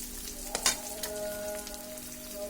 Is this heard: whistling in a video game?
no